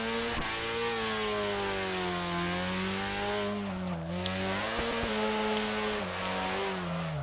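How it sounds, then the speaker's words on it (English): A drifting car's engine revs hard and steadily throughout, with sustained harmonic engine drone rising and falling in pitch and brief tire noise, loud and continuous with no talk. "I don't really want to hear all that revving."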